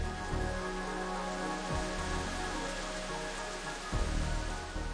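Steady rain falls continuously on Aegean islands, a dense even hiss of drops with a low rumble underneath and a few soft thumps.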